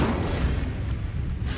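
An Incendio fire spell cast in Hogwarts Legacy, a brief low rumbling burst of flame that fades within under two seconds, with no talk.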